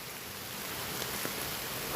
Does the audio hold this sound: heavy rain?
yes